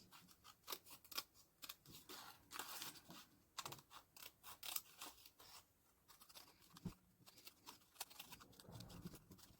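Scissors snipping through craft foam in quick, irregular clusters of crisp close cuts, quiet and continuous, with no talking.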